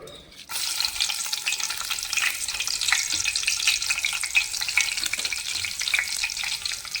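Steady, dense sizzle of dry red chillies frying in hot oil for tempering, close and continuous, with a few faint clinks partway through.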